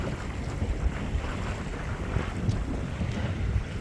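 Wind buffets the microphone aboard a Catalina 22 sailboat on a windy day in Padilla Bay, a constant low rumble with gusty swells and a faint wash of water beneath.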